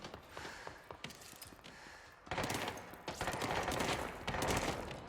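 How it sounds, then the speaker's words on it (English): Gunfire rattles in the video game Control, with bursts of rapid shots and mechanical clatter, a sparser stretch first, then denser, louder volleys that keep going to the end. "What are you shooting at?"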